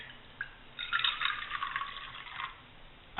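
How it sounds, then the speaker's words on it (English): Half a cup of water poured into the bottom of a backpacking egg poacher pan, a short splashing trickle lasting under two seconds, close and fairly soft. "1/2 cup of water to the bottom of it."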